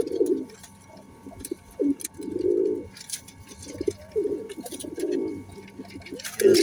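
Omani high-flying pigeons coo in a repeated series of soft, throaty calls close by, each a short rolling phrase followed by brief gaps, over a quiet background.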